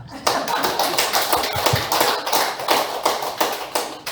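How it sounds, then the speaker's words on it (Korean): A church congregation claps hands together in a dense, steady burst of applause lasting several seconds, with a voice audible underneath. "박수 한번 해주세요."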